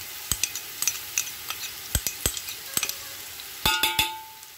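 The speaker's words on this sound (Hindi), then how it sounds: "वो जा रहा है गार्लिक और जिंजर पिसा हुआ, घर का गार्लिक और जिंजर पिसा हुआ" Ground garlic and ginger paste frying in a pan while cooking mutton pulao, with quiet sizzling under scattered sharp clicks and scrapes of a spoon stirring against the pan, close and fairly soft.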